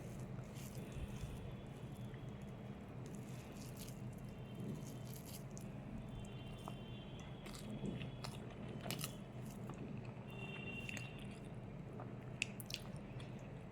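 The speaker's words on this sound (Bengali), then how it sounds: "প্রথমে খাই এই কচুর ফুল" Close, soft chewing and mastication of cooked taro flower, a steady run of small wet crunches and squishes with faint clicks, no talking.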